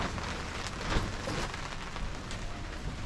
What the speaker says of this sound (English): it's just pissing down with rain